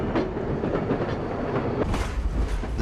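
Train rolling on rails in occupied wartime Europe, with rhythmic clattering wheels and rumbling cars, fairly loud and continuous without voices.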